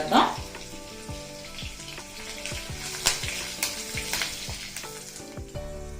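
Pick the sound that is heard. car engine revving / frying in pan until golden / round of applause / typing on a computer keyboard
frying in pan until golden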